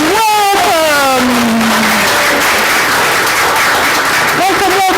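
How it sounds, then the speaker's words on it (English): Congregation applause at a Sunday church service fills the room as a steady wash of clapping, with a voice speaking over the start and again near the end. "please offer your applause"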